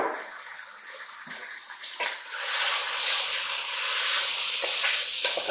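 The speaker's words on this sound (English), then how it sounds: "heated up in a large Dutch oven over a medium high. And to this, we're going to add in our pork." Pork hits hot oil in a large Dutch oven over medium-high heat for a Mexican chili colorado, starting with light crackles and swelling into a loud, continuous frothy sizzle.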